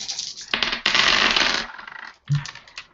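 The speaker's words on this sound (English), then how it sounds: "I'm gonna roll these dice." A large handful of dice rolled together, a burst of rapid clattering and rattling bursts over about three seconds, loud and close, ending with a few scattered clicks.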